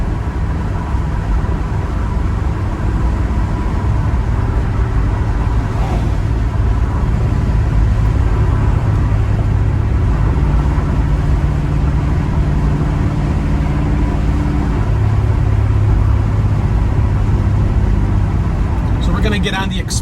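A 1972 Chevrolet Chevelle cruising toward the expressway, its deep engine drone and road roar heard from inside the car as a loud, unbroken rumble with slowly shifting low tones throughout.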